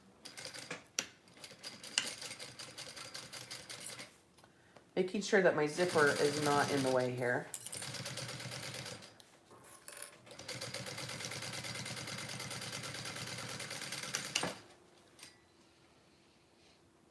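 Home sewing machine stitches a half-inch seam in bursts, a longer run in the middle and another near the end, with someone talking between and over the stitching.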